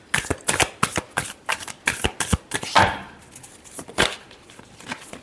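Tarot cards being shuffled by hand: a series of crisp, papery riffling bursts in an irregular rhythm, close and clear with no talking over them.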